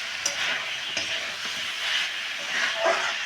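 Koi fish sautéing in hot oil in a pan, a steady close sizzle and hiss with occasional soft stirring scrapes and pops throughout, no voices.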